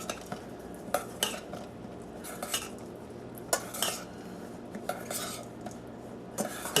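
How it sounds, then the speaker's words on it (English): Food being mixed with finely grated Parmigiano in a bowl, repeated clinks and scrapes of a utensil against the bowl in an irregular rhythm, close and fairly quiet, with no voices. "Mix that all together"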